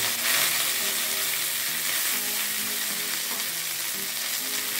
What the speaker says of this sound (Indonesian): Selanjutnya kita panaskan penggorengan lagi ya. Masukkan daun singkong.